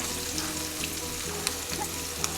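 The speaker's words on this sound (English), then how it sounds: "saute it nicely until it gets nicely softened, pink in color" Finely chopped onion sautéing with garlic in a pan, giving a steady close sizzle with small pops and crackles throughout.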